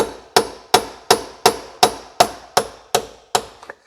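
Sledgehammer striking an M8 coach bolt with a round head and flat nose to drive out a stuck roll pin on a Rover 400 Tourer, ten sharp evenly spaced metallic blows, loud and close.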